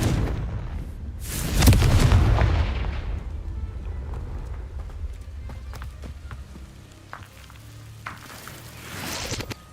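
A Confringo blasting spell in Hogwarts Legacy goes off as one loud, rumbling boom near the start, then decays into a long crackling tail with scattered small pops and a faint swell at the end.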